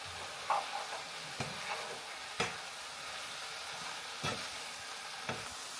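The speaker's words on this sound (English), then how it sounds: "Literally no better smell than butter, onions and mushies frying up." Butter, onions and mushrooms fry in a pan with a steady soft sizzle, punctuated by several brief scrapes and knocks of stirring, heard close with no talking.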